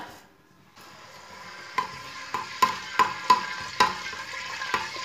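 Cumin seeds sizzle in hot oil with a steady crackling hiss, broken by several sharp metallic taps of a spoon stirring the pan.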